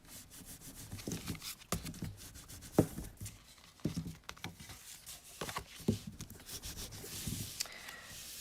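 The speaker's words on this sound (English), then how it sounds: "you're gonna really burnish your folds down" Folds in a paper card for a handmade easel card are burnished by rubbing, giving soft close scraping strokes in irregular short bursts.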